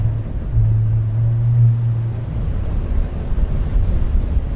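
Strong wind buffets the microphone on a South African safari, a steady loud rumble and roar that swells and eases throughout, with no talking.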